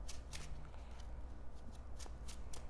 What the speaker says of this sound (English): we'll first shuffle the deck